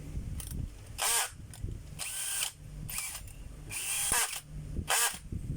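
DeWalt 18V cordless drill running in short repeated bursts, its high whine rising and stopping about five times, close and fairly loud, with quiet handling noise between bursts.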